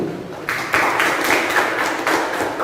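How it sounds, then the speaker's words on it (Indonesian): Students in a vocational high school classroom clap briefly, a small group producing uneven, closely spaced claps that rise after a quiet start and continue steadily to the end. "tepuk tangan dulu buat ini"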